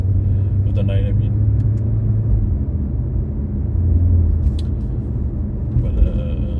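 An Infiniti Q50 Red Sport cruises through downtown Montreal at night, heard from inside the cabin as a steady low road and engine rumble. A person talks over it throughout.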